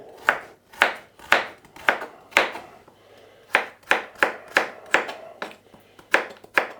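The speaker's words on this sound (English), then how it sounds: "Carrot gets finely diced as well." A knife finely dices a carrot on a board: about fourteen crisp, evenly spaced chops close by, with a brief pause midway, and no talk.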